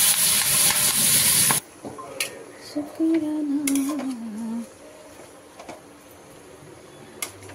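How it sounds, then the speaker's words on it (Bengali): Cumin seeds and dried red chillies hit hot oil left from frying fish, giving a loud, bright sizzle that lasts just over a second and then cuts off sharply, leaving faint kitchen clinks and a quiet room. "সেই তেলের মধ্যেই দিয়ে দেব জিরা আর দেব শুকনো লঙ্কা"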